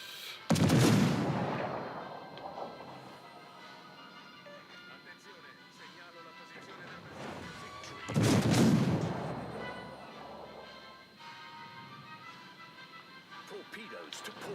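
Naval artillery volleys in the World of Warships video game: two heavy, booming salvos about seven seconds apart, each a loud blast that trails off into a long rumbling decay over background game ambience.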